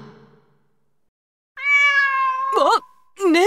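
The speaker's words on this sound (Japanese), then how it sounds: "猫？" A cat in the action game Demon Slayer Hinokami Chronicles gives loud, close meows: one long drawn-out call followed by two shorter, rising meows, after a brief faint sound at the start.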